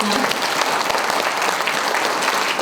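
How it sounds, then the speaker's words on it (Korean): Crowd at a newspaper anniversary event claps steadily after a special lecture, a full, even burst of applause filling the hall from start to finish. "장국만 회장님께 여러분 큰 박수 부탁드리겠습니다."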